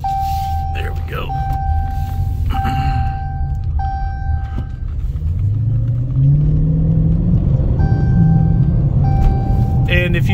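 A 2015 Dodge Challenger 392 Scat Pack with an 8-speed automatic pulls away and accelerates, its engine note climbing steadily and rumbling loud from inside the cabin, with a chime tone early on and a person talking over it.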